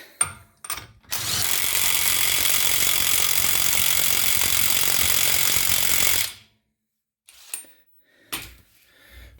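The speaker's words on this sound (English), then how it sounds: "Just going to run it down to our little impact." An impact wrench runs down the front passenger axle nut on a 2004 BMW 325xi E46, a loud continuous five-second burst after a couple of short clicks, followed by quieter clanks and handling noises.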